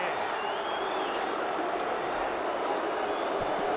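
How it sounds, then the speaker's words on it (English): Crowd noise at a Super Rugby 2016 match between the Sunwolves and the Cheetahs, a dense continuous roar of cheering and applause filling the stadium, steady and far-off, with commentators talking over it. "Well, just listen to the crowd."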